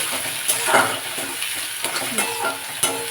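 Onions fry in a pan with a constant close sizzle, broken by several scraping stir strokes and light clinks of a utensil against the pan.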